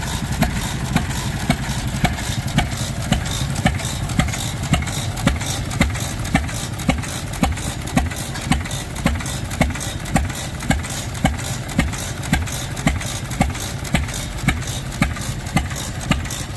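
A hit-or-miss engine on a small tractor runs close by with a steady series of sharp exhaust bangs repeating about every half second, each firing stroke punching through a low rumbling idle.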